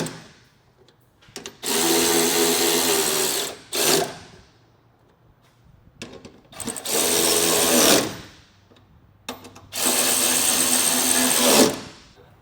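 A power tool drives bolts on a Mercedes Sprinter side ladder in three long, loud mechanical whirring bursts, each with a short blip, with quiet gaps between.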